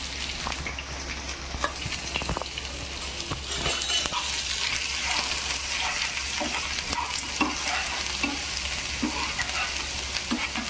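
Ginger garlic paste and chili fry in a pan with a continuous loud sizzle, while a spoon scrapes and stirs in repeated strokes throughout.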